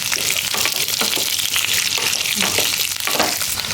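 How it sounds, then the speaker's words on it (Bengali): Chopped onions fry in a hot pan with a loud, continuous broadband sizzle and hiss, plus occasional stirring scrapes and no pauses throughout. "এরপরে আমি এর মধ্যে দিয়ে দিচ্ছি কেটে রাখা পেঁয়াজগুলো"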